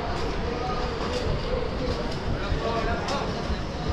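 A train at Ratnagiri railway station in Konkan produces a loud, continuous rumble and wheel noise throughout, with people talking over it.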